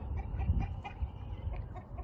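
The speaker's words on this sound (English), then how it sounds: "these roosters beat Cheetos up so bad" Roosters cluck in short, quiet bursts near a Cane Corso, a few soft calls over a low background murmur.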